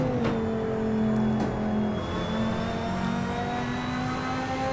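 A 2016 Audi R8 LMS race car in Assetto Corsa drones steadily at speed, its engine note holding a loud, continuous tone with slight shifts in pitch and no talking.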